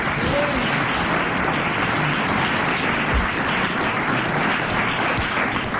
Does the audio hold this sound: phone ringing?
no